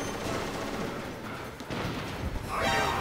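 Loud gunfire and booming blasts from the game Metal Gear Solid fill the clip densely, with no pauses between shots.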